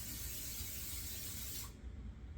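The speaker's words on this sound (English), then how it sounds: "I'm going to spray my pan" Pam cooking spray hissing from an aerosol can onto a baking pan, one steady close burst lasting under two seconds before it cuts off.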